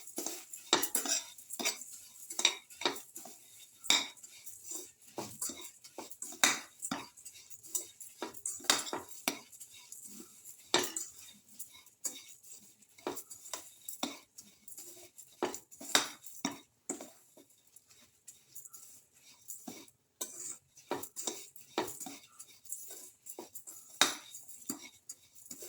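Semolina soup mix with sugar is sautéed in a pan, and a utensil stirs it in continuous close metallic scraping and clinking at an uneven, busy rhythm with no voices.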